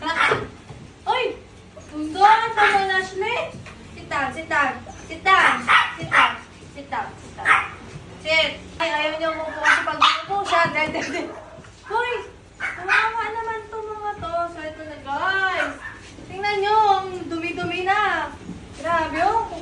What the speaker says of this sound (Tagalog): Tignan nyo kung gaano nakakulit ng mga tuta niya.